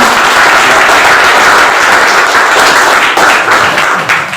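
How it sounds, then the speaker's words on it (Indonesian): Loud, dense applause from a gathered crowd for a village head candidate at a campaign vision-and-mission event, continuous close clapping that holds steady and begins to thin near the end. "berikan aplaus yang meriah"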